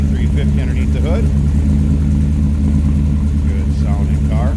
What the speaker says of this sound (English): Nice little rumble coming out of that Chevy 350 underneath the hood.